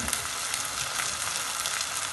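Chicken pieces frying with softened tomatoes in a pan for a chicken and brinjal curry, giving a steady, loud, dense sizzle that holds evenly throughout with no talking.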